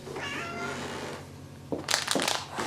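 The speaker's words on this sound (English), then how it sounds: "That's a casual little kitty." A pet cat meows in a home kitchen, a couple of short close calls in the latter half after a quieter stretch, with no talking over them.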